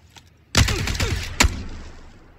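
A UMP submachine gun fires in PUBG: a loud, sharp burst opens the clip, followed by a second hard crack a moment later, both trailing into echoing reverb.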